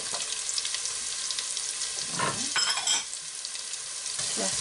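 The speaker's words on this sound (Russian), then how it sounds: "Сейчас у нас обжаривается морковочка с лучком." Chopped onion and carrot sizzle and crackle in a hot frying pan, a steady close hiss broken by a few louder bursts as the vegetables are stirred.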